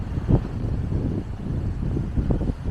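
Wind buffets a microphone on a snowy mountainside at around 6,000 feet, giving uneven low rumbling gusts that swell and fade across the short stretch.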